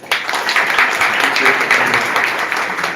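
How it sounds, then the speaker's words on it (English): A conference audience at a creators panel breaks into loud, dense applause for a speaker, many hands clapping steadily for about three seconds at full volume. "A huge round of applause for Anik."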